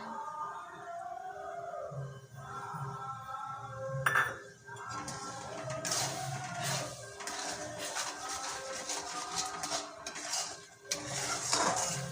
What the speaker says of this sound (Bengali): দিয়ে দিচ্ছি ভেজে রাখা সুজিটা